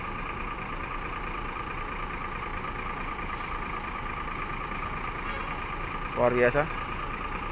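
A Sudiro Tungga Jaya Jetbus 3 Voyager coach, fleet number 001, idles and pulls away from a bus terminal with a steady low engine drone throughout, a short air brake hiss and a brief voice near the end.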